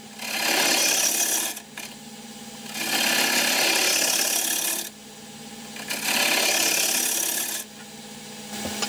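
A woodturning gouge makes pull cuts on a spinning wooden sword part, three loud, close rasping passes of about two seconds each, separated by quieter spells of the lathe running.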